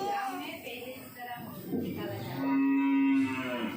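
A cow at a petting and feeding zone gives a loud, drawn-out moo, steady and close, while people talk around it in a busy outdoor setting.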